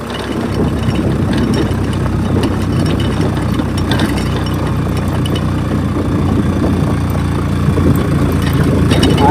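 A motorcycle engine idles on a village road cleared after landslides, with a steady, close rumble that holds evenly throughout and rises slightly near the end.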